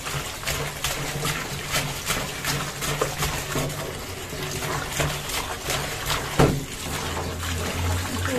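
Fish is rinsed in a steady stream of water, a continuous splashing and trickling flow with brief louder sloshes and no talking.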